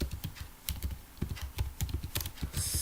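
Rapid, irregular clatter of keys on a computer keyboard while list entries are typed into a LaTeX document, close and steady throughout with a brief hiss near the end.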